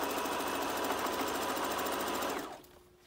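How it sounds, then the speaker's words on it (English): A sewing machine stitches the full length of a fabric tube for a scrunchie-style face mask ear protector, giving a close, steady, rapid mechanical whir that runs evenly and then stops abruptly near the end. "simply do a quick back tack and then sew the full length of your tube"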